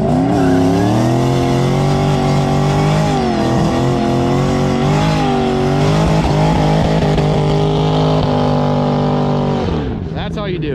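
A Ford Mustang GT500 does a burnout at a Mustang week event in Iowa, its engine roaring loudly and near with rising and falling revs, tire squeal and crowd noise underneath before it cuts off at the end.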